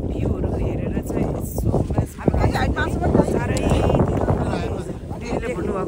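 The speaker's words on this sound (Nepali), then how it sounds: "हावा चाहिँ निकै हानेको छ यहाँ" Strong wind buffets a microphone on the Everest Base Camp trek, roaring and gusting unevenly throughout while someone talks over it.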